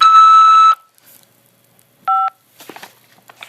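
Automated phone system tone for an incoming call from a corrections facility: a long steady electronic beep, then a shorter two-tone beep after a pause, followed by faint clicks and rustle.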